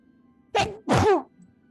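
A single sneeze, a short sharp intake followed by a loud burst, in an otherwise quiet room.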